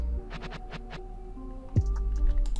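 A short, choppy run of reversed sound: swelling tones that cut off abruptly, with a heavier low thump midway and a smeared, backward-sounding texture.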